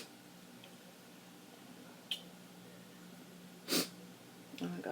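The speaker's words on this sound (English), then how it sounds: "I got the sniffles, y'all." A person with a cold sniffles through the nose, with a few short, close snorting inhales spaced apart over quiet room background and faint speech.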